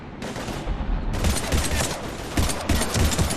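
Dense, continuous gunfire in the video game Mass Effect 3, with loud overlapping shots and bursts forming a sustained barrage of heavy combat fire.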